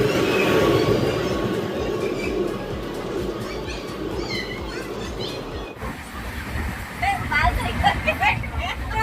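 A train rumbles at a railway station where the Mahakaushal Express is awaited, with clattering wheels and faint squeals. People talk throughout over the station noise.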